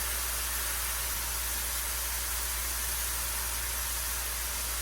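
Onions hitting a hot griddle beside burger meat for a green chile cheeseburger, giving a steady, loud broadband sizzle that hisses evenly from start to finish.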